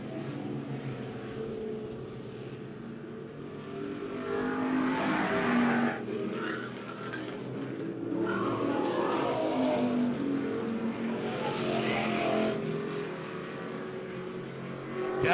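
USRA stock cars race around the Monett Motor Speedway dirt track, their engines roaring in a sustained drone that swells and fades as cars pass, heard from a distance with no talk.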